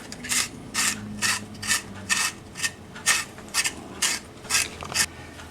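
A giant carrot sharpener gadget shaves a carrot with about eleven evenly spaced rasping, ratcheting strokes, close and clear, with no talking.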